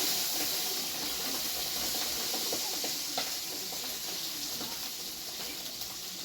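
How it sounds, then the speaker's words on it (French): Sausages sizzle in a pan, a continuous bright hissing fry heard close up, with faint scraping and clicks as they are stirred now and then. "je vais touiller un peu mes saucisses pour pas que ça crame"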